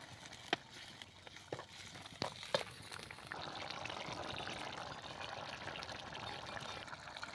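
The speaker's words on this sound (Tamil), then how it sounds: "நல்லா கொதி வந்துருச்சு" A pot of curry bubbles at a low simmer, faint steady gurgling with a few soft pops and clicks near the start, no talking.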